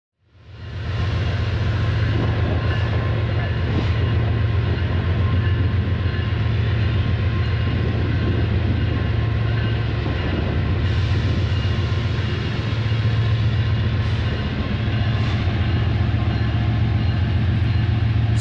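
A video game train engine rumbles steadily with a low drone, faint clacks and squeals rising over it as it crawls slowly across track switches, continuous and close.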